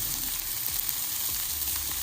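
Bell peppers sizzle steadily in a hot pan as they are stirred, a continuous close frying hiss with faint scraping of the spoon, no voices.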